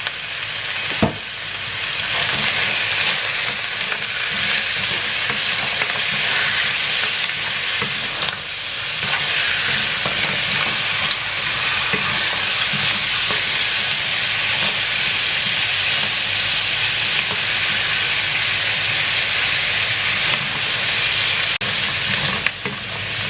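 Seafood spaghetti with black pepper stir-frying in a pan, heard as a steady, loud, close sizzle and hiss that runs throughout, with occasional faint clicks of stirring and no talking.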